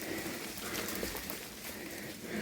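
Clumps of snow shaken loose by wind patter down from trees on a mountain hike in the Albanian Alps, a steady, close, rain-like hiss of soft drops throughout.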